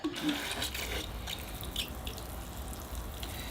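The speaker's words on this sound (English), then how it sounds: "I better give the tree a water." Water poured onto a lychee tree freshly planted in a new pot, a soft continuous trickle and splash, quiet and close, heard alone.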